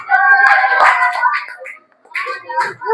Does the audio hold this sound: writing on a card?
no